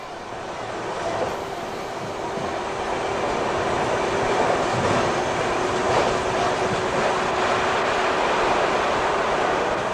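A passenger train runs along the line, with a steady rumbling roar and faint rhythmic rail clatter that builds slightly and holds for the whole stretch.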